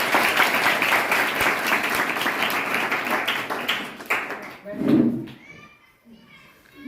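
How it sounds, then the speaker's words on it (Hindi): A school audience applauds a top-ranked girl student at a government school award program in Haryana, with loud, dense clapping sustained for several seconds before fading out as a voice speaks. "बेटी के लिए जोरदार तालियां।"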